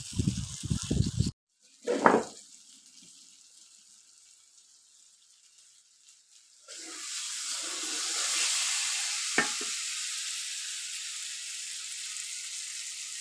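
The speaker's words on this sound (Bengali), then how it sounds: "মাছ রান্না হচ্ছে মাছ" Hilsa fish cooks in a pan, starting with clattering handling noises, then a quiet stretch before a steady soft sizzle builds and holds, close by, with no talking.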